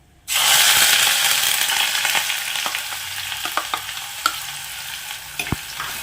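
Crushed shallots hit hot oil in a pan for a fish curry, bursting into a loud sudden sizzle that settles into steady close frying, with spoon scrapes and clicks of stirring, no voices.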